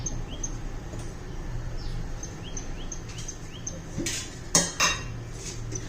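A wok clanks down onto a metal stove with two or three sharp knocks while making chicken masala, as birds chirp faintly in the background.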